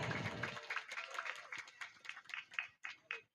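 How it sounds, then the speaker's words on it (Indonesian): Audience clapping at a Betawi lenong folk-arts stage show, a loose patter of hands that starts after a brief louder burst and thins into scattered, uneven claps with gaps. "Tepuk tangan buat PKLB."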